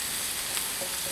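Onions and celery fry in a pan, producing a brief, even, close-up sizzle with a faint stirring texture and no voices.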